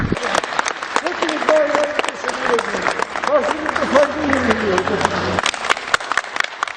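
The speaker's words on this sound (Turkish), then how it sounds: "tedavisi tamamlanan iki kişi hastane personeli tarafından alkışlarla uğurlandı" Hospital staff applauding two discharged patients as they leave after treatment, steady crowd clapping with cheers and voices mixed in, fairly loud and continuous before thinning toward the end.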